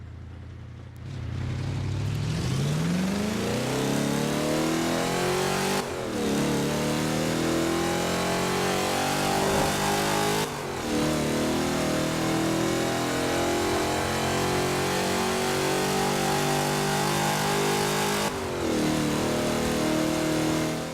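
A car engine in Forza Horizon 4 roars and revs up through rising pitch sweeps, then drops and climbs again several times as it shifts gears, loud and continuous.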